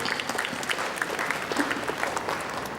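An awards ceremony audience claps steadily, a dense patter of applause that holds at an even level throughout.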